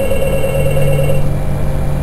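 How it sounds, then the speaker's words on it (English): A telephone rings loud and steady for about two seconds, a continuous electronic bell tone close by with no talking over it. "My phone."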